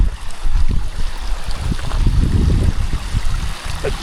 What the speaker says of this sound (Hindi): जैसे इधर पानी ज़्यादा बह रहा है तो ये पिघला हुआ है